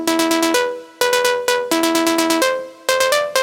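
A Serum 2 synth preset without velocity modulation plays a bright, plucky melodic pattern of repeated notes and chords, each hit at identical loudness with quick decays, loud and close with no voice.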